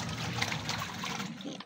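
Water pouring into a drum, a steady splashing trickle heard up close and continuous for the whole short stretch, with no talking over it.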